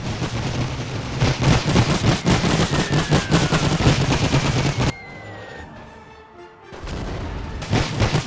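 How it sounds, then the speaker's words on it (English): Machine guns firing in The Great War 6.0, a dense rapid rattle of bursts with booming reports that cuts out briefly to a quieter lull before resuming, loud and close with no talk. "I've told my machine guns to open fire"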